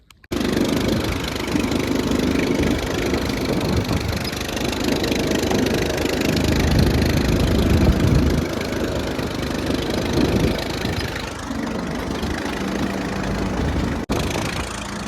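A tractor engine running on a farm field near ripened millet, a continuous loud mid-pitched idle with a steady knocking rumble that carries on alone.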